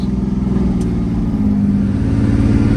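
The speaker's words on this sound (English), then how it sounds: "It's definitely straight piped, but when you're off throttle, it's super quiet." Straight-piped engine of a rare Toyota Supra running in a steady low drone with a pulsing exhaust note, loud and close, off throttle at a constant pitch, with no voices.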